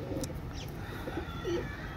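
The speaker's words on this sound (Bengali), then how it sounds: "এক জোড়া কেটিএম টেডি কবুতর" A pair of KTM Teddy pigeons coos softly in short, low murmurs against a quiet indoor background, faint and close.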